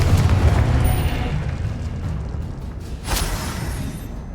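The Confringo fire spell detonates in Hogwarts Legacy with a deep boom and rumbling low end that slowly decays, then a smaller crackling burst follows near the end.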